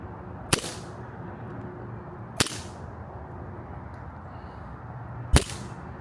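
Three sharp, loud cracks from a Sig Sauer Emperor Scorpion 1911 CO2 BB pistol fired outdoors, spaced unevenly over several seconds against a steady low background hum.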